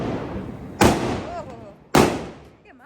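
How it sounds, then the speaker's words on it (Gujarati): Two loud firecracker blasts go off about a second apart during Diwali festivities, each a sharp near crack with a trailing echo, with people talking between and after the bursts. "ફટકડો છે."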